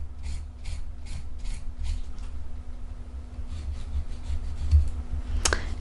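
A nail file rasps across an acrylic gel (polygel) nail on a tip, shaping it flat and square. Brisk, close rhythmic strokes come first, then softer, quicker ones, ending with a small sharp click.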